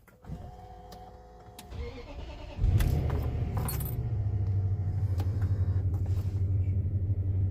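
A Range Rover L322 starts up after a brief jangle of keys and cranking, then settles into a steady low idle rumble that carries on to the end. The engine is close by and no one speaks.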